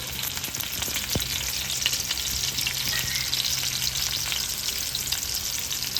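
Pumpkin leaf and shrimp fritters fry in hot white oil, a dense close bubbling sizzle that stays steady throughout, with a single sharp tap near the start and no voices.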